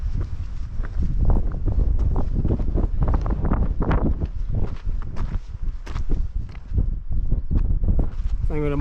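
Wind buffets an open microphone on a hiking trail along the Pacific Crest Trail, a steady loud rushing roar across the whole stretch, with footstep-like thumps and brief voice-like sounds mixed in.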